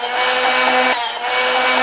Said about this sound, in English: it cams the drill bit so it gets the right contour, and that's what you heard